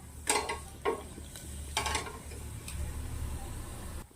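Whole spices (black cardamom, dried red chilies, a cinnamon piece and bay leaves) hitting hot oil and ghee for a potato and pea pulao, giving a faint, soft sizzle with a few clinks and stirring scrapes near the start.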